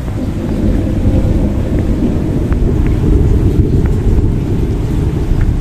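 Rain coming down lightly over a garden of fruit trees where water has pooled, with a heavy, continuous low rumble like distant thunder beneath a steady wash.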